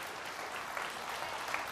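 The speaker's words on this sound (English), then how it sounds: "please give her a round of applause" Faint, distant applause from an audience at a recovery event, a steady patter of clapping throughout the brief moment.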